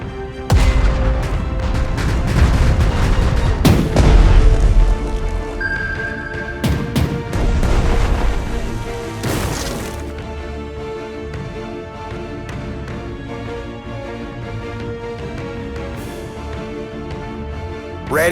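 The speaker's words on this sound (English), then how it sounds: "Dropping bombs." Bombs fall and burst in Strategic Mind Blitzkrieg, heavy booming explosions and crashes up front that settle into a rumbling, music-laced backdrop.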